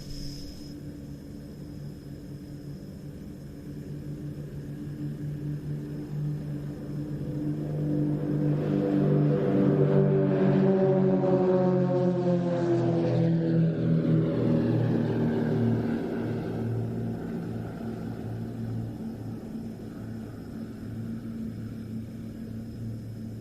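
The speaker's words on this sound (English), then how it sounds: "Rolling for takeoff, the first of our 3 national aerobatic teams at the Royal International Air Tattoo 2025." Royal Jordanian Falcons aerobatic team aircraft rolling for takeoff at the Royal International Air Tattoo 2025, a steady propeller engine drone that swells louder as it passes close by mid-clip, then eases back to a sustained hum.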